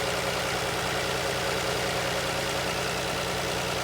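A VW Passat B6 3.2 FSI engine idles steadily with a low, even rumble and faint rhythmic knock, continuous and close, no voices.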